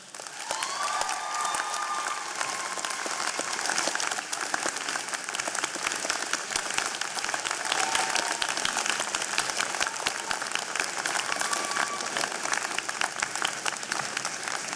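Graduates applauding their families at a university convocation ceremony, long steady clapping from a large crowd with some cheering, moderately distant and filling the hall.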